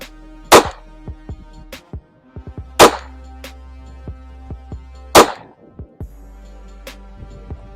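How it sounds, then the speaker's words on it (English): Three sharp pistol shots fired from about five yards at a range, each a loud crack with a short decaying tail, spaced roughly two and a half seconds apart, with faint clicks and handling noises between them. "I'm just going to shoot a test group of 3 rounds just to see where we're at"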